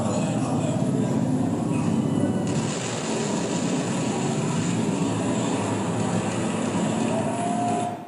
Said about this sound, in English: This is a fighter jet passing a ship faster than the speed of sound,